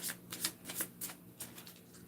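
Tarot cards are shuffled by hand in a quick series of crisp riffling bursts, close and soft, with no talk.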